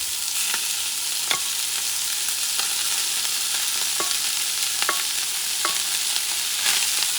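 Rice and fish being stirred together in a hot frying pan, a steady sizzle running throughout with scattered scraping clicks from the utensil against the pan, close and fairly loud.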